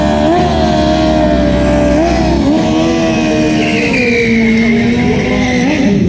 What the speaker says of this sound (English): We've got Tash out there, Wonder Woman, on the championship winning ZX10 for a change, having a go against the other BSB Super Dave, David Edge on the BMW.